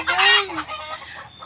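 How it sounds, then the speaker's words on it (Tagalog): Egg-laying hens clucking and squawking close by, a short burst of rising and falling calls that fades into softer background clucks. "nag-iiputan na sila at nagpuputakan."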